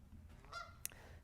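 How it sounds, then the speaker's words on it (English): Geese honking outside, a few brief nasal honks at moderate distance, one sharper call standing out against a quiet background. "Oh, I hate when they're out there and they're honking"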